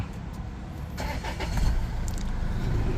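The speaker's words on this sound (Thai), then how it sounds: "สตาร์ทรถติดเรียบร้อยนะครับ" A Range Rover Evoque is started by push-button, its engine cranking briefly about a second in and then catching into a steady, close idle rumble.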